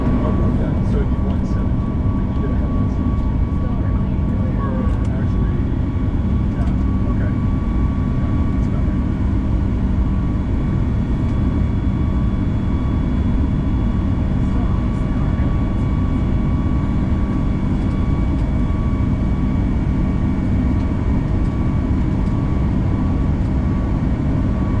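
An Alaska Airlines Boeing 737-9 MAX cabin roars during takeoff, a loud, steady engine rumble and broadband rush filling the whole stretch with no break.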